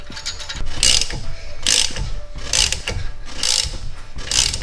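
A hand ratchet tightens a bolt during a Corvette build, rapid clicking strokes coming in a steady rhythm of five loud bursts with softer ticking between them, close and clear, with no talk.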